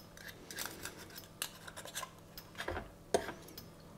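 A knife or scissors cuts the small muscle from Gillardeau oysters with faint, close snips and scrapes, a few sharper clicks of metal against shell standing out in a quiet kitchen.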